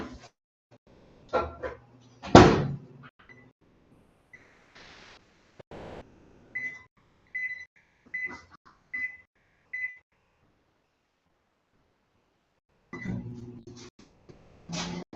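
A microwave oven being set to heat eggs for one minute twenty-five gives five short, evenly spaced electronic beeps, preceded by a few clunks and handling noises in a quiet kitchen.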